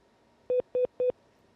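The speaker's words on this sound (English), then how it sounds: "It sounds like maybe the phone is not working." Three short, evenly spaced electronic telephone line tones beep at moderate volume over faint line hiss during a failed phone connection.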